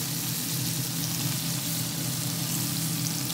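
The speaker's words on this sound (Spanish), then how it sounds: "vamos a agregar la mantequilla" Butter sizzling and frying in a hot pan with powdered garlic and pepper, ready for shrimp fajitas; a steady, close, continuous crackle and hiss runs throughout with no talking.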